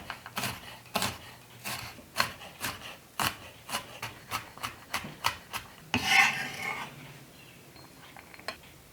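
A knife chops garlic on a cutting board in a home kitchen, with about fifteen crisp, near taps at an uneven, fairly quick pace, followed by a short scraping rasp.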